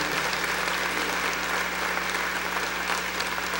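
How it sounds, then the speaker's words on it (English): Broad, steady applause fills a university commencement hall as the audience thanks a student program and orchestra, a distant, even wash of many hands clapping with a faint low hum beneath. "Could we give a round of applause to the Show Me Gold program and the Missouri Southern Orchestra led by Rick Espinosa."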